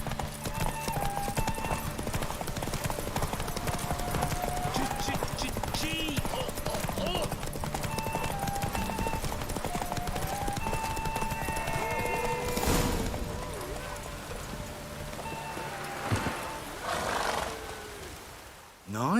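Hoofbeats of a horse galloping in The Witcher 3 video game, a steady clip-clop running under continuous game ambience and music, with a brief break in the rhythm near the end.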